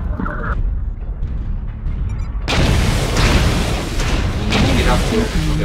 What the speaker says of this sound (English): LRM's coming at us from the hilltop.